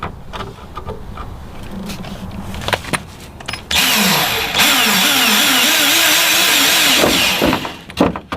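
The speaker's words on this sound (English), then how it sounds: "Drill a hole." A power drill bores a hole through a wide body kit panel on a Mazda RX-7, a loud steady whine starting partway through and running for several seconds with wavering pitch, after some quieter clatter and knocks.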